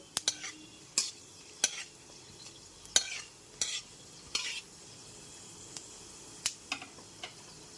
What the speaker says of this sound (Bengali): ওয়ান টিস্পুন পাঁচ ফোড়ন তেজপাতা আর একটা শুকনো লঙ্কা গ্যাসের ফ্লেমটা লোতে রেখে ফোড়নটা হালকা করে ভেজে নেব